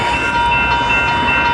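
A train rolls past at Arlington Park, a steady loud rumble with metallic rail screech and a sustained high squeal of braking, continuous throughout.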